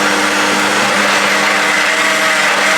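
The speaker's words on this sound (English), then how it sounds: "So now you can see it's blending." A kitchen blender whirs at high speed through a cassava mixture, a loud, steady motor whine with a dense grinding hiss that holds constant throughout, with no talking.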